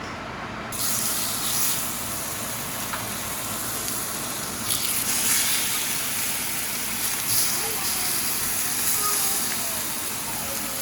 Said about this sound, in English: Now you're gonna let it sear until the very bottom gets a nice crust.